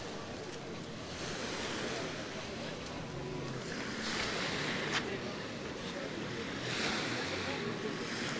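Steady wash of sea surf on a beach at the Professor's Corner in Alushta, Crimea, a continuous broad roar with gentle swells and some wind noise on the microphone.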